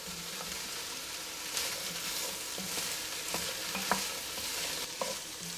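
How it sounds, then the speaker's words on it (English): Carrots, calabacita and celery sweat in a pot with a steady, close sizzle, while a spoon stirs them with soft, scattered scrapes and taps. "Now I'm gonna add all my vegetables in here. The carrots, the calabacita, and the celery. And I'm gonna let them sweat for just a few minutes."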